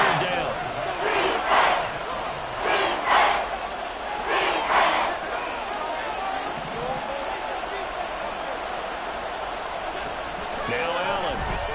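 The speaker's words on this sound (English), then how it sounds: "The crowd getting into it as we come up on a big third down." A football stadium crowd roars and cheers ahead of a big third down, a broad sustained wall of noise with rising shouts that swells and holds, heard without a commentator's voice on top.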